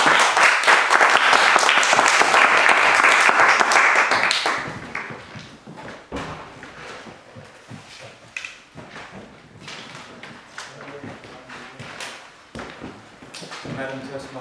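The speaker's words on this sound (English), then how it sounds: "Let's give a warm applause to Dennis." Audience applause at a Toastmasters club meeting, loud and dense for about four seconds before breaking into scattered claps and light movement, with quieter room noise continuing afterward.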